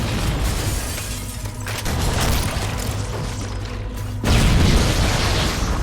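A big explosion in Halo: Combat Evolved booms and rumbles, with a dense crackling wash that swells, dips, then surges again loudly near the end, without speech.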